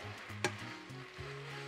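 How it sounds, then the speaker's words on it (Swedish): Pasta with pesto frying in a pan, a soft, steady sizzle with a sharp clatter near the start as the food is stirred, heard close and alone. "Nu har man liksom att det är pastan som börjar steka."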